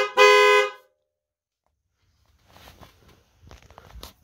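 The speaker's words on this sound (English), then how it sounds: "and it honks." A custom steering wheel on a Rockford Fosgate Astro Van gives one short, loud car-horn honk, after which the cabin falls quiet except for faint rustling and handling noises.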